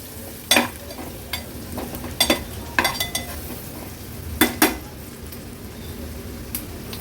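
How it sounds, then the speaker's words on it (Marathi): Turmeric and Agri Koli masala are stirred in hot oil with a low, steady sizzle, while a spoon scrapes and taps against the pan in sharp, irregular strikes. "हळद आणि मसाला तेलामध्ये छान असा परतून घ्यायचा आहे"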